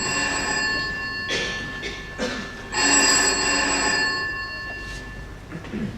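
A telephone bell rings in repeated bursts, loud and close, in an indoor scene with steady background hum and no talk over it.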